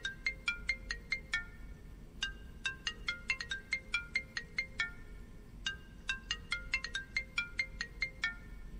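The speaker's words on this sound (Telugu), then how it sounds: "ఫోన్ రింగ్ అవుతుంది" A phone ringtone plays alone in quick bursts of bright, repeated electronic tones, pausing briefly between rings before starting again.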